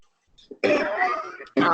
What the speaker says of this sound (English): Sorry, I'm having a cough this week.